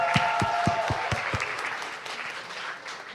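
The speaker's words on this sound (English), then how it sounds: "Big round of applause to all of you." Audience applauding at a health hackathon, a dense crowd of claps filling the room, with a few sharp claps standing out at the start.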